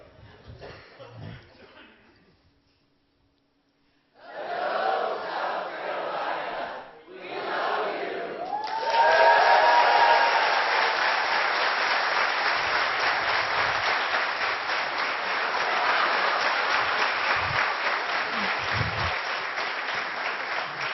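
A crowd at a Bible study gathering breaks into loud cheering and applause after a brief lull, with shouts and whoops rising into a sustained roar of clapping that holds steady.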